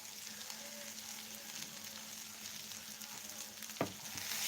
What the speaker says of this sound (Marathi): आणि याला व्यवस्थित असं हलवून घेऊ